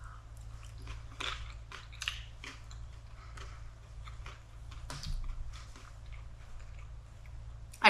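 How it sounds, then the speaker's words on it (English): Someone bites and chews birria mac and cheese topped with onion cilantro sauce and crunchy tortilla chips at a food festival, giving a series of close, irregular crunches and soft chewing sounds against a low hum. "we want to get a little bit of that cilantro sauce with the crunch of the tortilla and the mac and cheese all in one bite."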